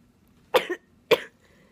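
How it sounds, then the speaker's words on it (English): Two sharp, close coughs about half a second apart, with quiet room noise around them. "I'm still coughing a lot every time I lay back"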